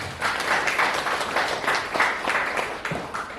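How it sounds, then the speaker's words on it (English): Audience at an academic conference breakout session in Bangkok giving a round of applause, a moderate burst of rapid overlapping hand claps, fairly close and steady for a few seconds. "A round of applause, please."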